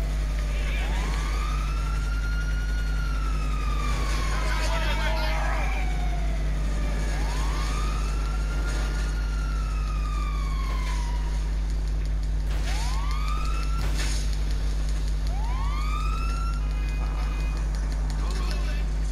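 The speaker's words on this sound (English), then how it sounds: "I'm not even going to be able to hear me now because of all these sirens." Several wailing emergency vehicle sirens in Grand Theft Auto V rise and fall in long sweeping tones over a constant low engine hum, loud and continuous throughout.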